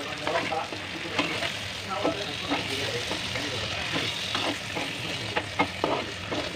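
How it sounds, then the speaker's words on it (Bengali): Chopped tomatoes sauté in a pan for a fish curry, a soft continuous sizzle with scattered stirring scrapes and taps throughout, close and low in level. "টমেটো কুচি দিয়ে দিলাম, সেটাও আমি কষিয়ে নিলাম"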